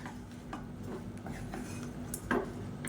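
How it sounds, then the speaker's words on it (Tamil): Cooked rice is mixed into lemon rice masala in a pan, making soft scraping and light clinking stirs of a spoon against the vessel, quiet and close, with no talking. "இப்போ நல்லா கலந்து விட்டுக்கலாம்"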